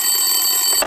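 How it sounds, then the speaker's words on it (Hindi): In a Hindi radio drama, a telephone bell sounds as a sustained bright electric ring heard alone and close, which cuts off abruptly near the end. "टेलीफोन की घंटी बजी"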